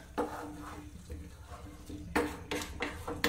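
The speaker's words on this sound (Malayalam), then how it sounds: "നന്നായിട്ട് ഇളക്കി കൊടുക്കുക" A spoon scraping and clattering against a pan while egg bhurji is stirred, with irregular metallic knocks that grow louder toward the end.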